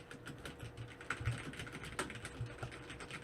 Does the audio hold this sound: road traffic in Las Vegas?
no